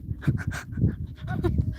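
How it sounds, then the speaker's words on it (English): A shepherd's dog approaching on a mountain trail in the Austrian Alps, giving short panting and whimpering sounds close by, with people talking over it outdoors. "Here comes the dog and the shepherd."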